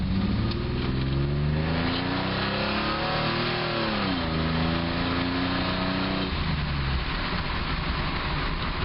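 A six-cylinder truck engine revs hard through its exhaust, rising in pitch, holding steady, then falling back. The sound is loud, continuous and close throughout, with no talk over it.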